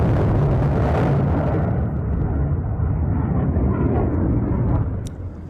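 Missile attack explosions in Tel Aviv come as a loud, rumbling roar that surges at the start and rolls on for several seconds before dying away, with a faint sharp crack near the end.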